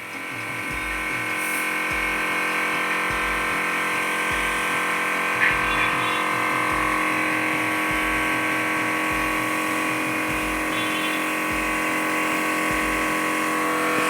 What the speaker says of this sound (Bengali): এখানে একটা মোটর চলছে কিন্তু মোটর চলছে এখানে একটি মোটর চলছে